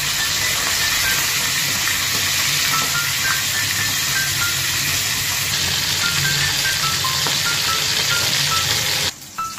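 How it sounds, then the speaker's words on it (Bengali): Pomfret fish marinated in salt and turmeric fry in hot mustard oil, a loud, continuous, close hissing sizzle that carries on steadily before cutting off abruptly near the end. "এই স্টেজে আমি গরম তেলে মাছগুলোকে তুলে দেবো এবং একে একে ভেজে তুলে নেব"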